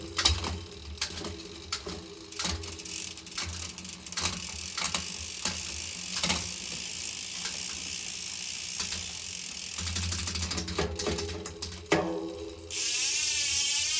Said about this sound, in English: now we got the cable through and clamped it, so we'll see how the shifting is going right now